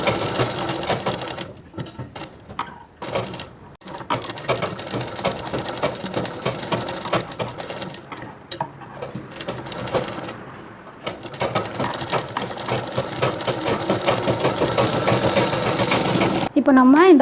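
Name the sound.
sewing machine stitching folded outer of chudidhar collar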